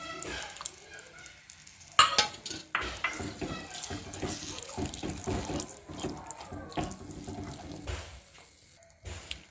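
Squeezed tamarind water pours into a pot of curry-leaf curry amid clinking utensils and clattering cookware, a busy run of kitchen sounds close by.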